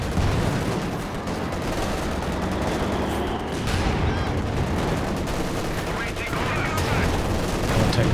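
Dense, continuous gunfire from a Company of Heroes 2 battle, rapid small-arms bursts and machine-gun fire layered into a loud, unbroken wall of shooting with heavier cracks mixed in.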